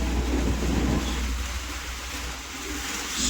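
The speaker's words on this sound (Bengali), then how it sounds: "জোরে বৃষ্টি শুরু হয়েছে" Heavy rain pours down on a passenger launch on the river in the Sundarbans, a steady dense broadband rush with low wind rumble and no talking.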